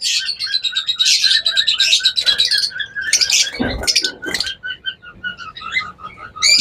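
A pair of cockatiels call loudly and close, with repeated shrill chirps and whistles in quick, uneven bursts and short pauses between them.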